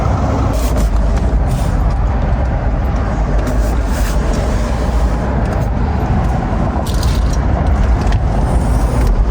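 A repaired Corvette's engine runs loudly and steadily up close, a constant dense rumble with road-vehicle noise throughout and some faint voices underneath.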